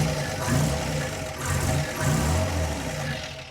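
A 1954 Chevrolet Bel Air engine idling through a dual exhaust with split manifold, a low throbbing burble that pulses gently in loudness, close and steady with no talking.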